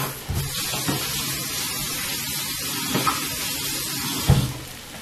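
Water from a kitchen tap runs steadily over a finger as it is rinsed, a close, continuous hiss with a few small splashes and knocks, heard during spaghetti and meatball preparation.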